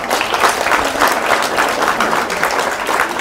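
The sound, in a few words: audience applause at a film festival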